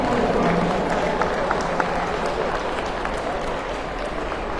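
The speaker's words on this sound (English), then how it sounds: "Lots of applause for this young lady." Spectators applaud at the SKC All Breeds 2025 dog show during Toy Group judging, a steady crowd wash of clapping with voices talking underneath.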